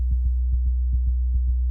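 A deep, steady sub sine bass synth tone with soft rhythmic note pulses riding on it, clean and alone, ending abruptly.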